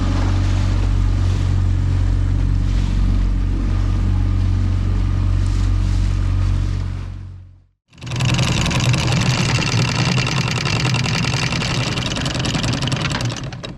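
A sailboat motors slowly through rough sea with its engine running, a steady loud drone of engine and crashing water that drops out briefly near the middle, then returns louder and brighter.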